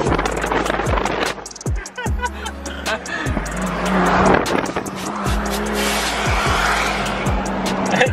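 A car accelerates hard with tires squealing, engine revving through several rising gear pulls alongside screeching rubber, loud and close throughout.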